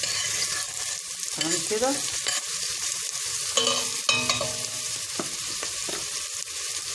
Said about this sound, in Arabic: انا بقى ايه بحمر البصلايه اللي قلت لكم عليها اللي كانت في المكونات مع الثوم